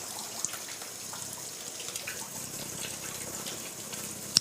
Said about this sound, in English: then I wash my hands with soap